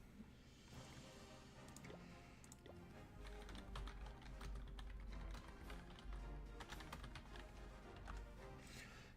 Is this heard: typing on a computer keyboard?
yes